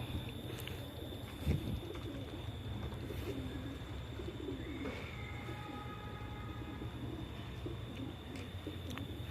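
Pigeons coo faintly at night inside a net enclosure after being given feed and water, low calls under a steady background hum with a distant whistle-like tone near the middle.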